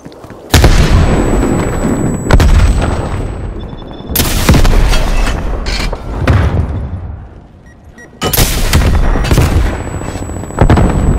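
Frag grenades explode in a Call of Duty: Black Ops Cold War multiplayer match. Several loud, close blasts hit at irregular intervals, each a sharp crack trailing into rumble.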